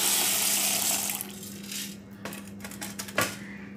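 Wheat grains poured into a bowl of water for washing before home-made whole wheat flour, a dense rattling patter and splash that fades into scattered small clicks and drips.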